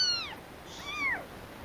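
A cat meows twice in quick succession, each a clear rising-then-falling call, the second slightly longer, heard alone over a faint steady background hum.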